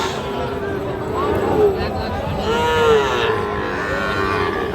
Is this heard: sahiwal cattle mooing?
yes